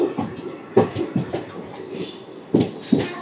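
The Simhadri Express, train 17239, rolls into Tuni station, its carriages giving off repeated clattering thumps and rumbling bursts at close range, with no voices.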